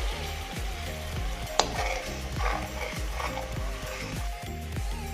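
Garlic paste cooking in a pan over a medium flame after water is added: a quiet sizzle runs under a regular, repeating background pulse, with one sharp clink partway through.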